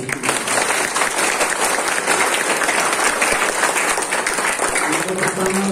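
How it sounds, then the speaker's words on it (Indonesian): Sunday worship congregation at a theology school in Tawangmangu clapping for Jesus; loud, sustained, dense applause with crowd voices mixed in throughout. "Tepuk tangan bagi Yesus."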